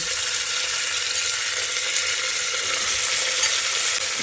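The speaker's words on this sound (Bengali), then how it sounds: "এই ভাজা পেঁয়াজের মধ্যে চিকেনটাকে দিয়ে দিচ্ছি।" Chicken pieces hit hot oil with softened fried onions, giving a loud, steady sizzle that carries on evenly throughout with no voices over it.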